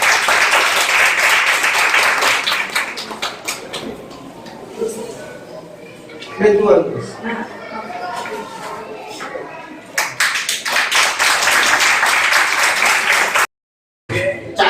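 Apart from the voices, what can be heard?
audience applause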